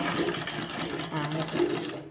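Sewing machine stitching piping onto cloth by the hand-loading method, a steady close mechanical whirr running nearly continuously, with a brief lull partway through.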